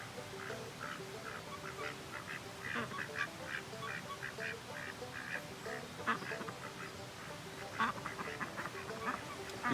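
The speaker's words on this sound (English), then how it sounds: "ducks grow so fast" Young ducks quack repeatedly in a backyard garden, a busy, irregular chorus of nasal calls at moderate distance that goes on without a break.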